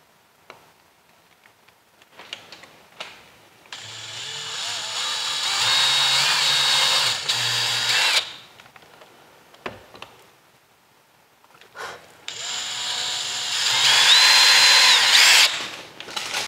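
A power drill drives hinge screws into wood in a woodshop, two sustained whirring bursts of several seconds each separated by a pause with faint clicks and handling noise, fairly close and loud with no talk.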